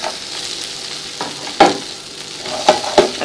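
Bread pieces frying in a pan, a steady sizzle broken by several sharp scrapes and clinks of a spoon stirring, close and fairly loud, with no talking.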